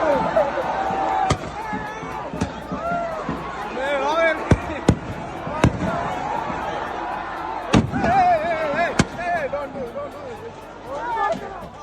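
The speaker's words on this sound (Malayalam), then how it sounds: "മത്സരത്തിന് തൊട്ടു മുൻപ് ചൈനീസ് പടക്കങ്ങൾ ഉപയോഗിച്ച് കരിമരുന്ന് പ്രയോഗം." Chinese firecrackers exploding at a night football match in Areekode, Kerala, sharp separate bangs spaced a second or two apart over crowd noise, with a news narrator speaking over them throughout.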